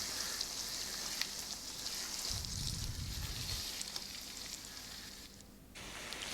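Beaten eggs, three of them, fry in a pan for chicken fried rice, giving a soft, steady, fairly faint sizzle with a brief burst of stirring and no voices.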